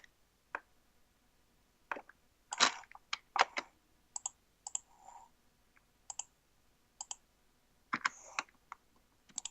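Keys on a computer keyboard click in short irregular bursts during a Minecraft let's play in the Nether, crisp and close with quiet gaps between.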